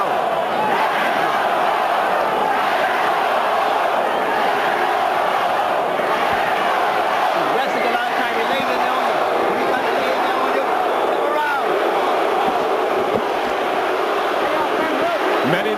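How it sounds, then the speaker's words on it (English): A packed arena crowd at the Evander Holyfield vs Riddick Bowe heavyweight boxing match roars and chants for Bowe in a dense, loud, unbroken wall of noise, with a voice faintly audible within it. "crowd chanting, "Let's go, Bowe.""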